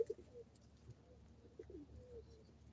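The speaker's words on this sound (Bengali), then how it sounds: "পায়রা ঢুকেছে কেমন" Pigeons on a hobby farm give faint, low cooing in short repeated bursts, distant and quiet against steady background hum.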